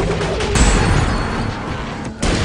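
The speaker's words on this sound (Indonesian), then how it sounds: "kedatangan Farrell disambut dengan tembakan ke arahnya oleh anak buah Barel" A loud, dense burst of gunfire with heavy booming impacts, rapid and close, in a short intense barrage.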